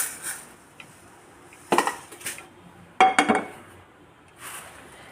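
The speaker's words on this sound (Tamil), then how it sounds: "எடுத்து ஒரு பிளேட்டுக்கு மாற்றிடுவோம். இதை உடனே ஒரு பிளேட்டுக்கு மாற்றிடணும்." Roasted spices for rasam powder scraped off a pan onto a plate, a few sharp metallic clinks and scraping clatters in two short bursts, separated by quiet pauses, close and moderately loud.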